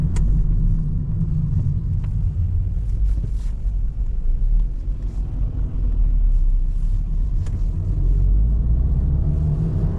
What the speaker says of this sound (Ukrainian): Наша машина аналог Гольф Плюс, такий як спереду їде. Тільки в Іспанії виготовлена тим же ВАК.